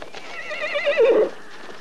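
A horse gives a single loud, wavering neigh rising to a strong peak before it breaks off, with faint hoof sounds beneath it.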